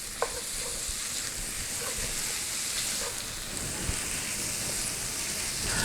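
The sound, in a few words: sausage browning and sizzling in a pan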